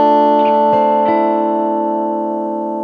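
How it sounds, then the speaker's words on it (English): Two guitar strings left ringing after a pair of chords, a clear sustained tone that slowly fades across the pause, with a few light finger-noise clicks near the start and no talk. "wait for the pause and hear the two strings ring out."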